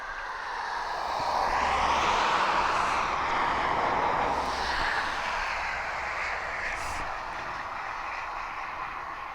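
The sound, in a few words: Cessna F406 Caravan aircraft circling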